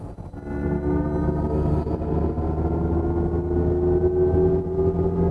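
A Mercedes-Benz EQE electric sedan plays its synthetic driving sound in sport mode, a steady layered hum of sustained tones with a slowly rising pitch, fairly loud and continuous with no talking.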